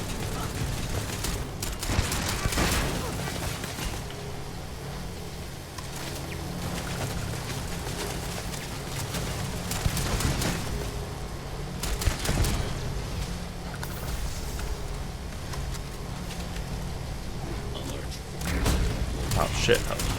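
Turrets firing in the Starfield video game, a dense, continuous clatter of gunfire and booms sustained throughout, with a heavier burst near the end.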